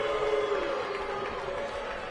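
Continuous crowd noise from a WWE 2K18 wrestling match fills an arena, a steady sustained roar of disapproving boos and murmurs, with a faint voice underneath.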